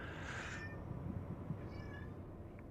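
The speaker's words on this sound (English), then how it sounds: "That's where you can hear meowing." A house cat meows close by, one drawn-out meow followed by a fainter second call, over a low steady background hum.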